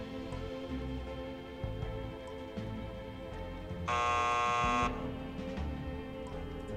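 An electronic locking mechanism in the Thimbleweed Park point-and-click game gives off a steady, bright electronic beep tone lasting about a second, set against low rumbling game ambience.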